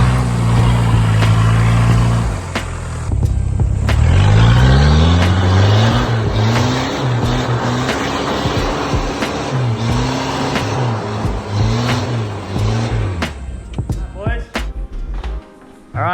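A Holden Rodeo with a freshly welded limited-slip diff is driven off, its engine revving up loudly and climbing in pitch through several gear changes, with a steady road roar underneath.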